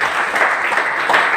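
Enthusiastic audience applause for a sponsor at a hotel event in Purnia, a dense, steady burst of clapping from a crowd, loud and close throughout with no speech over it.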